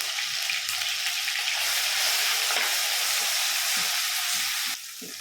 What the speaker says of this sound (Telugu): అల్లం పచ్చివాసన పోయేంత వరకు కలుపుకోవాలండి.